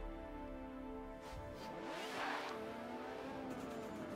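A Lamborghini in Forza Horizon 4 revs steadily with a sustained, close engine drone, rising in pitch midway with a brief whooshing swell, as the car drives over grass.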